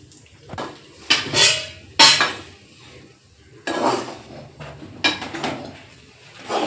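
Gram flour being fried and stirred in a pan on low heat for laddu, with repeated loud metallic scraping and clinking of a spoon against the pan in irregular bursts, close by, no talking.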